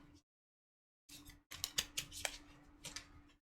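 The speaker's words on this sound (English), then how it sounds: "I'm gonna shuffle these up real well" Tarot cards being shuffled by hand: a short burst, a pause, then a dense run of crisp riffling snaps and slaps lasting about two seconds, close and fairly loud with no talking.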